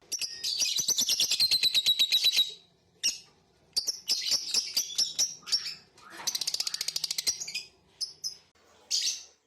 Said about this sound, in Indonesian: lovebird jenis ini memiliki suara yang nyaring, dan kicauan juga enak didengar